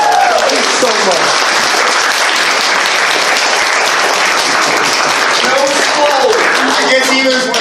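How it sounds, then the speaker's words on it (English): Audience applause at a fan convention debate event, loud sustained clapping from a crowd filling the whole stretch, with some voices and cheers rising over it. "give him a round of applause"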